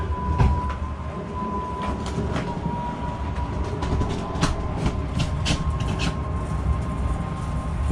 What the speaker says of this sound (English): And then we're going to bring our slide in.